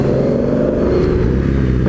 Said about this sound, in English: Punch it and let everybody hear the F-Type Jag motor.